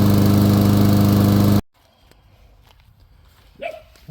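A Honda engine on a Troybilt TB240 push mower runs with a loud, close, steady roar, then cuts off abruptly, leaving quiet shuffling and a brief faint noise.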